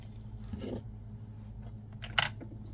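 Scissors give a single quick snip through crochet yarn near the end, after faint handling rustles, in an otherwise quiet room with no talking.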